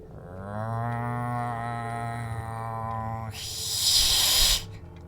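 A voice imitating a cat, first with a drawn-out, low, moaning yowl, then with a sharp, breathy hiss that stops abruptly, heard up close.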